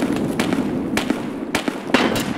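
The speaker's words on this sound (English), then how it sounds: "What was that nade?" Grenade blasts in the shooter game Escape From Tarkov, several sharp broadband bursts spaced through a couple of seconds over a steady rumbling game backdrop, loud and fairly close.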